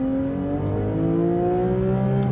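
A 2022 Porsche 911 GT3 Touring engine revs steadily upward toward 9,000 RPM, a loud, close, continuous rising wail with no talking over it.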